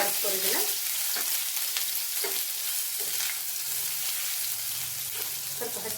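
Ginger garlic paste fries in hot oil with a loud, continuous crackling sizzle, broken by spoon scrapes and stirring knocks against the pan, heard close up.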